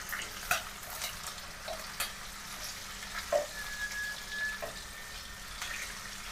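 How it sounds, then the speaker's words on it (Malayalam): Food frying in a pan, a faint, steady low sizzle with scattered soft clicks and knocks of utensils throughout, quiet and without speech. "ഇതൊന്ന് ഫ്രൈ ആവാനുള്ള ടൈം മാത്രമേ ഇതിനെടുക്കുള്ളൂ."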